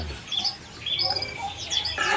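Small caged birds at a crowded Indonesian bird market selling zebra doves and canaries, scattered bright chirps and short tweets overlapping at mid distance against a low murmur of background activity, no clear speech.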